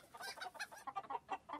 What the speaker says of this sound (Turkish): Burada tavuk var. Hem de bir sürü tavuk.